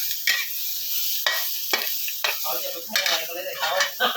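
Chilies being stir-fried in a pan after the fried mackerel, for a rustic pickled bamboo shoot salad: repeated scraping stir strokes with a light sizzle, close and fairly loud.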